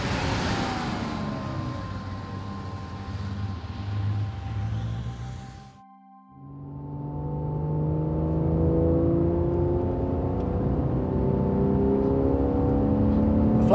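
A Porsche 911 flat-six engine revs and pulls through the gears, its tone rising and falling, then cuts out briefly before picking up again with a steady, whirring drone.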